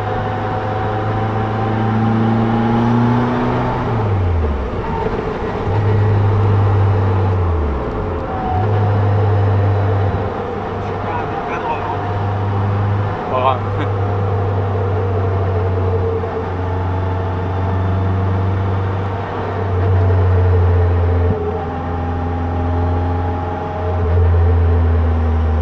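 A Caterham sports car drives on the Montlhéry track, its engine droning loud and close without pause and dipping in pitch at a couple of gear changes, with no one talking.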